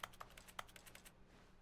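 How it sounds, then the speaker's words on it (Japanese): Quick, light keyboard clicks tapping in an uneven burst, faint and close, then stopping; an in-game keyboard typing sound effect in a video game. "クリックするとキーボード音がする。"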